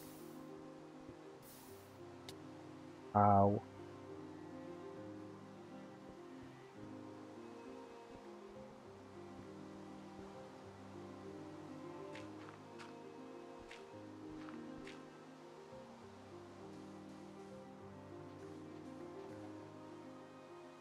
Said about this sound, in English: Whilst it's still raining.